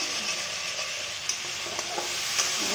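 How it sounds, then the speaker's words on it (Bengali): Fish spice paste stir-fried in hot oil until the oil separates, giving a steady close sizzle and hiss with a few light scraping clicks from stirring. "মাছের মশলার থেকে তেল ছাড়া শুরু করেছে"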